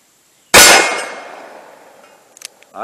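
A single loud .357 Magnum shot from a Taurus Model 608 eight-shot revolver fired in single action at a range, a sharp blast with a long ringing decay, followed by faint clinks.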